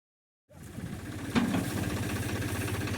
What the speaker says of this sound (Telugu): ట్రాక్టర్ చూడండి ఇక్కడ ఉన్న ట్రాక్టర్